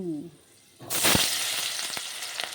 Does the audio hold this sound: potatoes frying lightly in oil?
yes